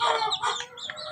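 Young chicks, newly hatched near a nest that still holds one unhatched egg, cluck and peep continuously at close range with no talking.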